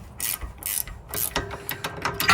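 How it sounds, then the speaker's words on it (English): Ratcheting 15mm wrench loosening the adjuster clamp nut on a Jeep Wrangler JL drag link, a close series of quick rhythmic clicks in short bursts with brief pauses between strokes. "I'm going to use the 15mm wrench now to loosen it up."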